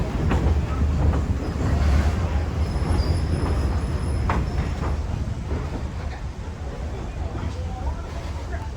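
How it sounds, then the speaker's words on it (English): Great Smoky Mountains Railroad train pulling up a slight grade, with a steady low rumble and clattering of the cars rolling along, heard close from an open-air car, with people talking over it. "hearing the engine up ahead grumbling as it pulls the train up the slight grades"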